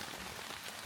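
Heavy rain pelts a tarp overhead at night in the woods, a dense, even patter with no voices.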